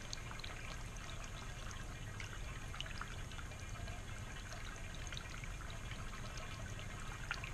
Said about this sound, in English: the water splashing down the rocks is actually a little bit overshadowed by this draining noise that you hear as the water percolates or filters down